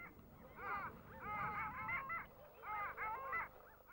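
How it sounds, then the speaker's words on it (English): Long-tailed ducks, sea ducks on a British coast in late winter, give crooning display calls in rhythmic bursts of nasal, honking notes, fairly close, with a brief pause between two calling bouts. "In late winter, you may hear their crooning display calls, higher pitched than eiders"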